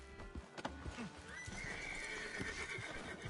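A horse in a video game whinnies in a long rising neigh amid outdoor ambience, with hoof clip-clops and rustling around it.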